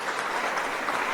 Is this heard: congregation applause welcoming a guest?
yes